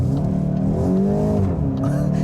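The engine of a 2025 Volkswagen GTI revs steadily and loudly up close, its tone climbing and falling smoothly over about two seconds with a dense, continuous drone.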